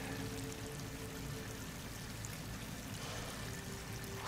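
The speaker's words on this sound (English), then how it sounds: "Water's coming in." In the video game Horizon Forbidden West, water pours into an enclosed pit as a faint, steady rushing stream that runs evenly and unbroken, with no voices.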